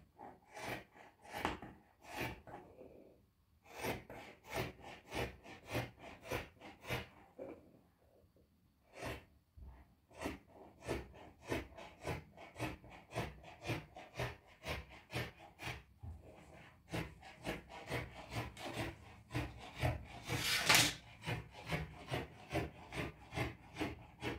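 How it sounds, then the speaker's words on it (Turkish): Fabric pieces for a collared cardigan being cut, a close, steady rhythm of repeated rasping cutting strokes with brief pauses and no talking. "Şimdi hemen kesiyorum."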